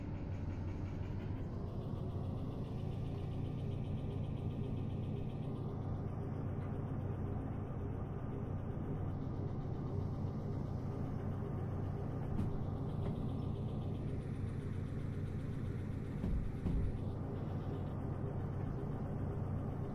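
A train locomotive engine running in the VR game Derail Valley: a steady low rumble and drone holds throughout, with faint shifting tones drifting above it, continuous and moderately loud with no talk.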